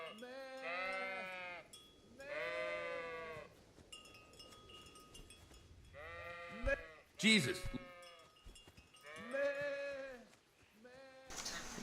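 Sheep in the video game Kingdom Come: Deliverance bleat in about five drawn-out, wavering calls spaced a second or two apart, fairly close, with a brief spoken exclamation and a few clatters in between.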